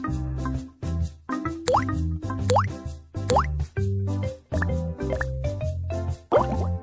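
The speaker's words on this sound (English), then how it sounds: "Apply some eye drops to wash the sand out" Cartoonish eye drops fall in the Baby Bus children's video game as a string of bright plopping drip effects with quick upward-gliding tones, repeated every second or so over steady, cheerful background music.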